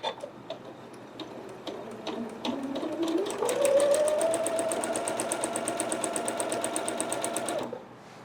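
A sewing machine stitches a quilt block, with a few single ticks at first and then a fast run of rapid rhythmic stitching with a rising motor whine. It is close and steady, then stops abruptly.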